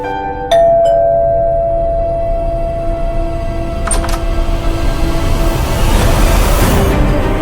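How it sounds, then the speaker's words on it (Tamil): A doorbell rings repeatedly indoors at a home, two ding-dong chimes followed by another pair, their tones ringing out and fading before rising background noise. "யாரோ இந்த நேரம் பார்த்து காலிங் பெல் அடிச்சிட்டே இருக்காங்கப்பா"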